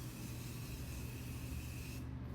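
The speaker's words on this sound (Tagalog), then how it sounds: "So now I'm using the same spray that I use as a primer because this is also a setting spray mist." A continuous setting spray mist hisses close up as it is sprayed onto a face, a steady airy rush lasting about two seconds before cutting off.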